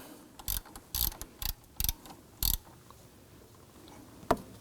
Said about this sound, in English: Use our 12mm socket, shallow, and we're going to loosen up this bolt right here going through the tensioner block.